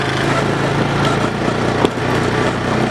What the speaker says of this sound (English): Sometimes we even get to drive the quad bikes.